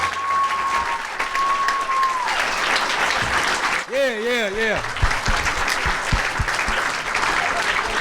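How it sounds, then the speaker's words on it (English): A convention crowd applauds at a Friday the 13th Q&A panel, steady dense clapping and cheering filling the room for several seconds, with a brief whistle-like tone and a short spoken word partway through. "Y'all clap. Let it be loud."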